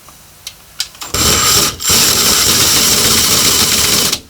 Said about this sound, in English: You're going to want to drill it nice and straight.